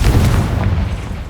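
Loud, low booming blast from the Confringo fire spell in Hogwarts Legacy, a single deep rumbling explosion that fills the short moment and fades slightly at the end.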